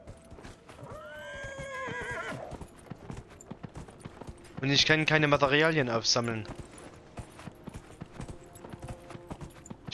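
A horse whinnies twice in the video game Dragon Age Inquisition, with hooves clip-clopping throughout; someone speaks over the sounds in between.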